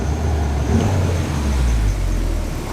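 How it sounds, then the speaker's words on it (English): A smoky, troubled car engine is revved hard, a loud continuous mid-range roar that surges and holds steady for a few seconds with no voices over it. "Let's give it some revvies here."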